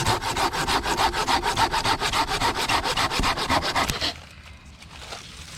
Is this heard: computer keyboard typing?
no